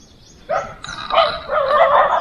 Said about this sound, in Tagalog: May mga aso dito sa kabila, ang ingay.